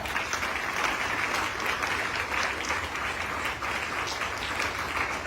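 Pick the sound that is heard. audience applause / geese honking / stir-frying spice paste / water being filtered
audience applause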